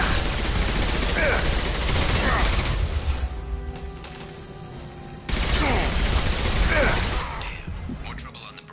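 Rapid bursts of weapon gunfire in Mass Effect crackle loudly in two dense volleys separated by a brief lull, with a voice speaking in between.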